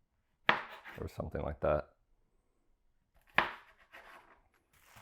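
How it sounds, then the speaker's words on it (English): A knife cuts small cherry tomatoes in half on a cutting board, giving a quick run of sharp chopping taps, a pause, then another cut, with a brief bit of talk in between. "we're gonna have some of these cute little tomatoes. I'm just gonna cut them in half"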